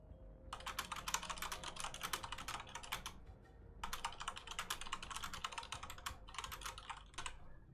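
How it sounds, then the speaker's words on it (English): Keys on a mechanical keyboard are hammered in rapid typing bursts, loud and close, with two long runs of clattering keystrokes separated by a short pause and no talking. "when I'm just rapid typing to someone, I hammer on the keys and you can hear that shit"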